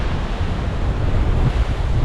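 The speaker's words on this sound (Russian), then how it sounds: "Ждем самую большую волну" Big storm waves crashing on the Crimean shore in fierce wind, a loud, continuous roar of surf and gusts buffeting the microphone with no voices.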